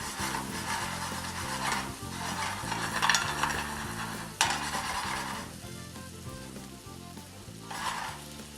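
Garlic frying in oil in a pan over lowered heat for tapas, a steady close sizzle with an occasional clink of a utensil, no talk.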